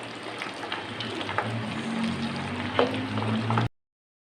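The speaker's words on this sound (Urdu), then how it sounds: "ہم کباب اس میں ڈالیں گے۔ آپ نے خیال کرنا ہے گھی اس وقت گرم ہے" Gola kebabs fry in hot ghee with a steady, close sizzle and crackle and a few louder pops, which then cut off abruptly.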